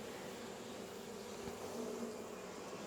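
Honey bees buzzing on top of a strong, healthy hive, a soft, continuous swarm drone with a few individual bees passing close by.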